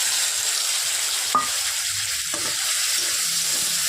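Spices fry in a pan for a bean seed and fish curry, hissing steadily up close, with a couple of light spoon knocks and scrapes and no voices.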